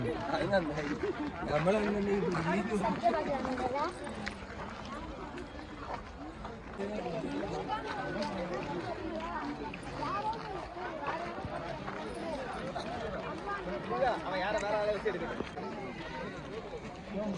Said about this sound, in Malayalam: ബോർഡിന്റെ കൂടെ ഫോട്ടോ എടുക്കാനുള്ള തിരക്കാണ് കേട്ടോ കാണുന്നത്.